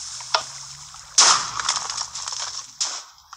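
A TNT cannon fires in a video game with a sharp blocky explosion burst, followed by crackling debris and a second smaller blast. A faint click comes before it and there is no talk.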